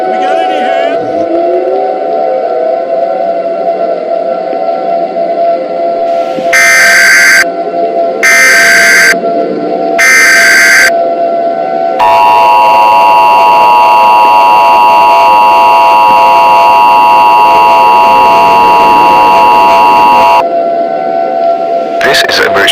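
An Emergency Alert System sequence sounds loud and harsh: three short bursts of data tones, then a long, steady, two-tone attention signal lasting several seconds, which ends abruptly. A broadcast voice speaks over parts of it.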